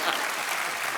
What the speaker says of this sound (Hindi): पप्पू और आलू के लिए तालियां